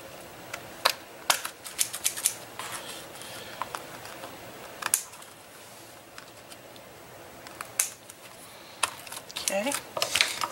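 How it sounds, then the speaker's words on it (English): Scissors snip paper butterflies trimmed in a journal, a series of sharp, close, irregular cuts and paper rustles, with soft speech at times. "Now we're just going to trim off the ones that are kind of running off the page."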